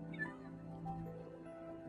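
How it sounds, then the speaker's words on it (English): A pet cat in the Minecraft video game gives a soft, short meow at moderate distance, faint amid quiet background game sounds. "Cat's on the bed already."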